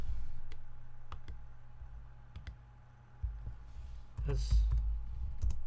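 Quick bursts of clicky keystrokes on a computer keyboard, scattered across the moment with short pauses, while typing code into a text editor; a voice speaks briefly under the tapping.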